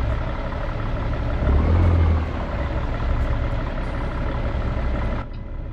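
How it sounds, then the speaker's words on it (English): An old Cummins Big Cam diesel in a truck from American Truck Simulator rumbles at a steady, loud idle, swelling briefly in a deeper throb before dropping slightly in level near the end. "these old engine sounds that come to American Truck Simulator"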